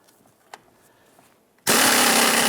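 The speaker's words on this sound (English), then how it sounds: "Use a 15mm socket to loosen and remove the nut on the upper portion of the link." A 15mm socket, likely power-driven, works loose the upper nut on a front sway bar link of a 1997-2006 Jeep Wrangler. A loud, steady whirring burst cuts in abruptly after near silence and runs to the end.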